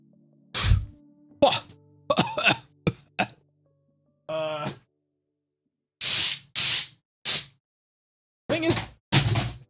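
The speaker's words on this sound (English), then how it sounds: "I had like dust removal spray" A can of dust removal spray hissing in several short bursts, with longer loud blasts near the middle, mixed with scattered handling knocks and throat sounds, close by.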